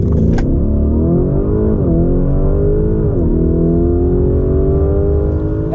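Lamborghini Urus SUV with a 4.0-litre V8 biturbo engine revs loudly up close, its deep roar climbing and dipping through two throttle blips before holding a steady, rumbling drone.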